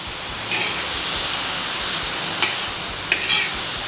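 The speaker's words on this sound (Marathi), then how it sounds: "चला आता हे 1-2 मिनटं आपण हे पनीर परतून घेऊ भाज्यांबरोबर" Paneer and mixed vegetables are stir-fried in a pan, giving a soft continuous sizzle with a few sharp clinks of a spatula against the pan, close by and with no voices.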